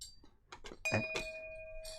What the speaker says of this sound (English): if they click it, they make a bell ring in the studio